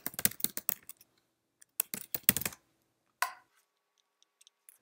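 Quick bursts of clicky keystrokes come from a computer keyboard, close and crisp, with short pauses between groups of taps and a final single key press.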